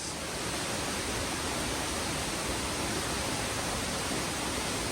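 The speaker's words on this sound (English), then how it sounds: "I could hear Abiqua Falls. Here we have it, Abiqua Falls." A steady, powerful roar of Abiqua Falls in Oregon fills the air continuously, dense and broadband like a nearby waterfall, with no voices.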